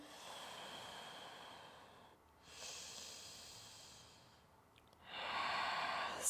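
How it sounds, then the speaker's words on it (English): Slow steady breaths during a challenging vinyasa yoga flow, close, airy inhales and exhales in long swells with quiet gaps between them, no talk over it. "steady breathing."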